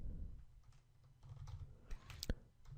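Quiet keyboard typing while code is entered on a computer, with light irregular key taps over a low background hum, ending in a short burst of clicks.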